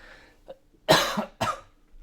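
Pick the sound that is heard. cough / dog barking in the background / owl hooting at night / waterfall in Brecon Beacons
cough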